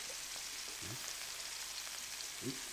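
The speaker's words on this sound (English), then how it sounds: "you're only searing this on each side because you want to lock in the juices" Beef sears in a pan with a steady, faint hiss of frying that holds evenly throughout, and a couple of soft low bumps are heard near the start and end.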